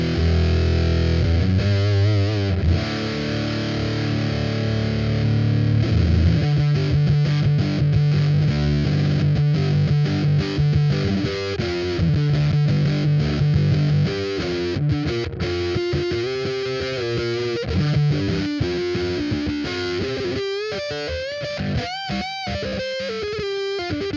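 Electric guitar played through the clean channel of a small DOD Grunge transistor amp in a studio, a steady run of picked notes and chords that sounds gritty and effected despite the clean setting, loud and alone with no talking.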